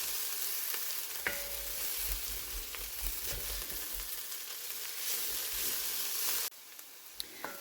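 Vegetables sizzle and fry steadily in a pot for a holiday one-pot dish, with occasional scrapes and clinks of stirring and a brief quieter stretch near the end.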